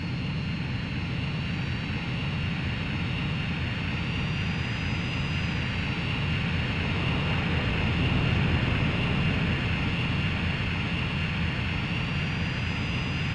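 Constant in-game jet engine roar during the aerial refueling sequence in an Ace Combat flight game, a steady broadband rumble with a faint high whine, unchanging and uninterrupted across the whole stretch.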